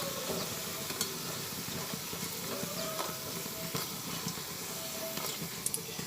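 Lentil fritters fry in hot oil, a steady close sizzle and hiss that runs continuously with faint occasional clicks and no talking.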